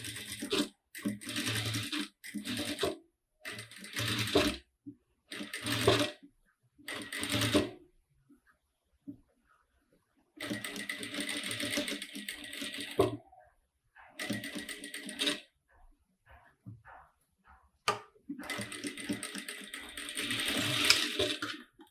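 Sewing machine stitching an outline along bias tape for a zipper opening, running in bursts of rapid mechanical whirring separated by short pauses, close and clear with no talking.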